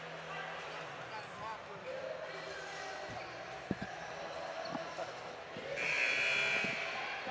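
A loud, sustained buzzer sounds in a gym near the end of the stretch during a high school girls' basketball championship final, preceded by a crowd murmur, an announcer talking and a few sharp thumps.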